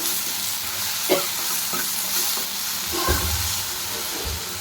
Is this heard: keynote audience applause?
no